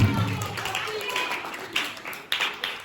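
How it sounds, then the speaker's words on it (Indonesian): A classroom of students claps their hands during a lesson, with uneven, scattered claps of moderate loudness and a few sharper bursts near the end, with voices underneath. "Oke, tepuk tangan untuk kita semua."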